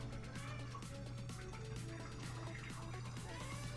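Female cat crying and meowing insistently, repeated plaintive meows in quick succession over a steady low hum, close and fairly quiet.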